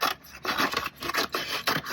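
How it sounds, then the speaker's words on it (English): Scissors snip down the side of a paper bag in a quick series of about seven crisp, rasping cuts, close and clear with no talk. "you're gonna take your scissors and you are cutting down the side of the bag, all the way down the side of the bag"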